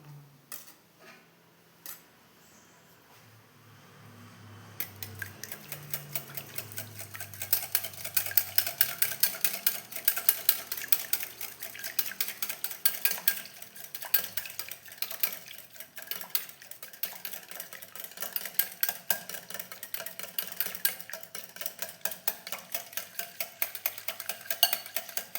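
A homemade biscuit mixture is beaten rapidly in a bowl, producing a fast, even run of close clicking and tapping strokes that continues steadily after a few brief knocks at the start.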